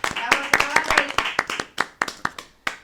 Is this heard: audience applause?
yes